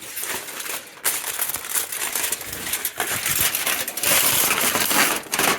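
A metal plate from a 1959 Clark Clipper forklift is pulled off aluminum foil, giving loud, close, continuous crinkling and crackling with a few sharper crunches.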